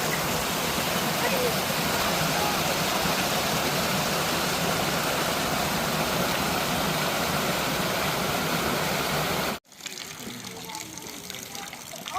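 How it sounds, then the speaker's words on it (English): Fast-running water rushes loudly and steadily in a constant roar, then cuts off abruptly near the end, leaving a quieter background. "That is fast. That is fast running water."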